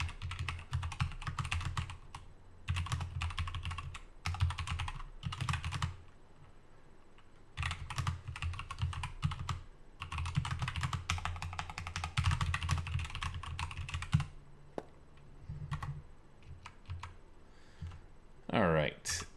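Computer keyboard typing in steady bursts of rapid keystrokes, separated by short pauses, close and clear, with a brief squeaky sound near the end.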